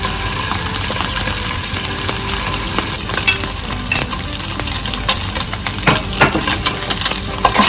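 Food fries in oil in a pan, a dense, loud crackling sizzle with scattered sharp pops and a few utensil clinks, continuous and close throughout.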